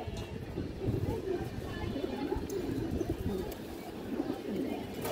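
Pigeons coo in a steady low murmur, a black-necked female among older-breed birds, close and continuous, with someone talking over them.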